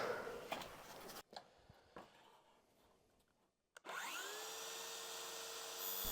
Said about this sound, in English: the blade I'm using in the circular saw here is a special blade that's meant for cutting sheet metal like this